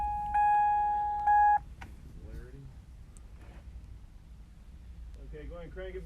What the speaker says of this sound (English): It does make this weird beeping noise, though, whatever that is.